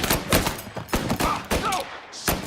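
Rapid gunfire in Mafia Definitive Edition, sharp bursts of shots cracking in quick succession with brief gaps, loud and close.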